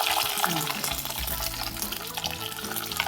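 Small shallots frying in hot oil for a Chidambaram brinjal gothsu, a steady close sizzle with stirring scrapes throughout.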